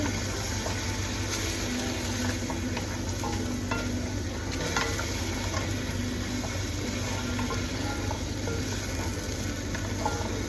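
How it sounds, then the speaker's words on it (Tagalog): Beef caldereta being stirred in a pot with two ladles, a steady low bubbling and scraping texture with faint sizzle running throughout, no talking. "Gagamit tayo ng dalawang sandok panghalo para pantay."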